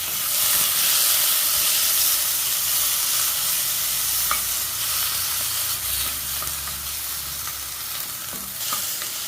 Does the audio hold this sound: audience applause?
no